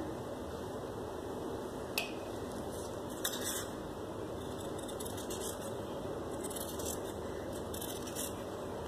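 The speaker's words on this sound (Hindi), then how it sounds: "अब मैं इसको काट लूँगी।" Scissors cut fabric for a gharara trouser, with a handful of crisp, isolated snips spaced out over several seconds against a quiet steady background hum.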